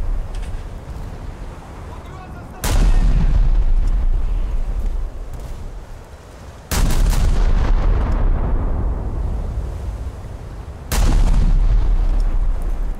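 Naval guns in War Thunder fire armor-piercing rounds in three heavy booming salvos, each a loud sudden blast followed by a long rumbling decay, spaced several seconds apart over steady battle noise.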